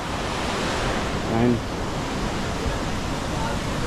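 Water rushes steadily at Amboli waterfalls and dam, a continuous broad roar like surf mixed with wind noise, with a voice briefly speaking over it.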